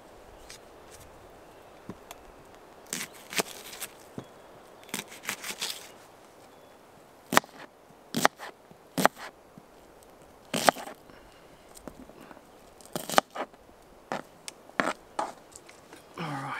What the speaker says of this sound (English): All right, chop up my onion first.